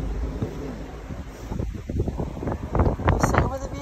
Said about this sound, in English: It's a bit windy, I think.